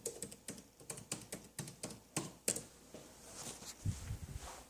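Password being typed on a computer keyboard, a quick run of about ten crisp, close keystrokes in an uneven rhythm, followed by a few softer taps and faint room noise.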